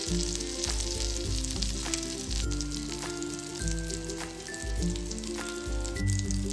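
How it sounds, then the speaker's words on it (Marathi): Oil poured around the edges of a moong dal dosa on a hot pan crackles and sizzles loudly and continuously, with dense popping spatter and no voices. "इथे आपण आता कडेने मस्त असं तेल सोडलं।"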